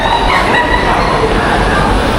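Loud, constant rumble and roar of a train at a station, with a dense wash of mechanical noise filling the scene, beside coach D4.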